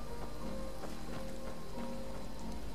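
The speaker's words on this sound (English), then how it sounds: "It's raining now in the lowlands." Steady rain falls in the lowlands of the video game Skyrim, a constant close hiss of drops with faint patters over it and no voices.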